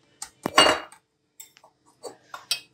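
A utensil whisks batter for roti cones in a bowl, giving a cluster of clinks and scrapes followed by a few sparse, sharp taps separated by silence.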